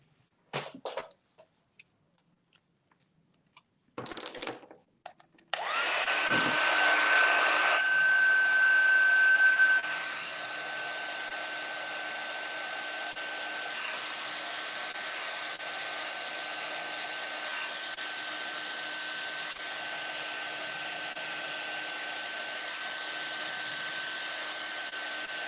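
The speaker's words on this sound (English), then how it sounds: "Now I'm going to say heat set with my heat tool, so it's going to be a little noisy." A handheld heat tool blows steadily while heat-setting a craft piece. It starts with a louder whir, then settles into a constant airy drone that runs alone for many seconds, close and fairly loud.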